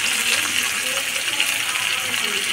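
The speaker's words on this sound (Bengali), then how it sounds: "জল আমি জল দিয়ে দিলাম" Water pours steadily into spiced masala in a cooking pot, a continuous bright hissing gush with no breaks, close and moderately loud.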